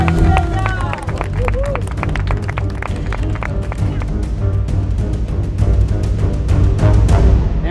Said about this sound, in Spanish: ¡Un aplauso para Mireia!